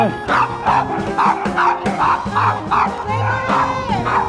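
A dog near a cave lodging in Cappadocia barks over and over, with about eight sharp, close barks in quick, uneven succession and some yelping between them.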